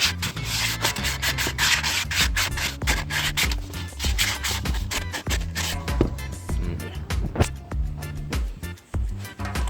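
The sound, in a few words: rubbing calabash bowl inside smooth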